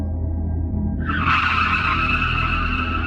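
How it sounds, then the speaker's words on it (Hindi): Car skidding through a sharp turn as a sound effect: a steady engine rumble, then about one second in a loud, sustained tire squeal rises and holds to the end. "अचानक से एक खतरनाक मोड़ पे जीना ने तेजी से गाड़ी मोड़ी"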